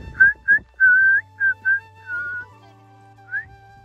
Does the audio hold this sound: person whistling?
yes